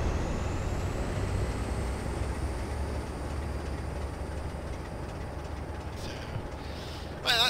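A train rolls steadily past in Train Simulator 2017 on the China Clay Line, a continuous low rumble of wheels on rail with a faint high whine, ending in a brief hiss like an air brake.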